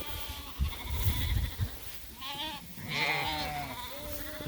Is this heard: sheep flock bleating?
yes